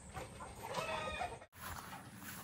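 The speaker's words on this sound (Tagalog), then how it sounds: "dito tayo sa sa mga manok. Ayan sila." Chickens cluck and call close by in a farm coop, a steady chorus of clucks with a brief dropout midway, no talk over it.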